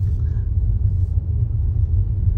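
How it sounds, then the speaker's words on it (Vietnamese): Strong storm wind blows outdoors in Da Nang during a typhoon, a loud, steady, deep buffeting rumble close to the microphone with no voices. "Thật sự bão rất là kinh khủng luôn, gió thổi rất là mạnh luôn á."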